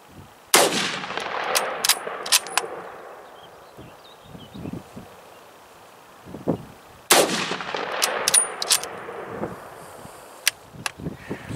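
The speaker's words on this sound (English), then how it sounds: "Alright, moving on to the T17. Got 4 shots for it as well." T17 military rifle fired outdoors, with two loud, sharp reports several seconds apart, each followed by a trailing echo and softer handling clicks and rustles in between.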